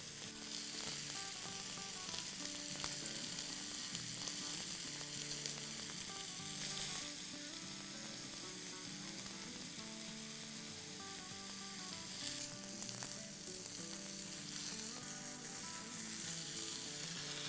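Chicken shish kebabs fry in a preheated pan over medium heat, giving a steady, close, loud sizzle that runs the whole time with no talking, joined by faint stirring and scraping as the skewers are turned.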